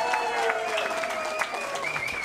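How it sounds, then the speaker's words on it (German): An audience applauds at a summer concert, a dense steady wash of many hands clapping that holds for a couple of seconds, with faint voices mixed in. "über einen kleinen Applaus würde ja auch ich mich freuen"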